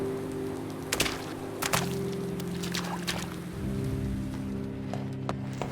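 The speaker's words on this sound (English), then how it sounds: "One of the few locations where it is raining." Steady rain falls in This War of Mine, a wide continuous hiss under low looping ambient tones, broken by a few sharp clicks and knocks from movement.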